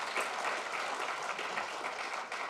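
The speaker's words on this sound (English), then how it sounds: "can we have another round of applause for all of the prize winners and everyone who submitted a poster?" Audience applause for poster prize winners, a dense, even burst of many hands clapping, fairly distant and steady for a couple of seconds with no talk.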